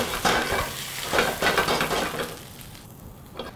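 Hot dog sausages fry in hot oil with a moderate sizzle and a few clattering stirs and pan knocks early on, the sound easing off toward the end.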